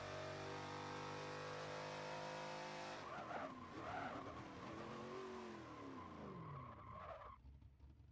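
Car tires squeal and skid under locked brakes in a racing video game, preceded by a steady high engine drone. The skid screeches loudly for several seconds, its pitch sliding, then fades at the end with no talking.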